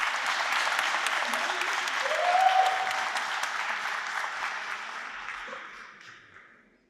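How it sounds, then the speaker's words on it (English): Audience applause at a senior talent show, a steady wash of many hands clapping that swells with a brief whoop midway, then gradually fades out, moderately distant. "But let's give Melissa a round of applause, because this is her dream."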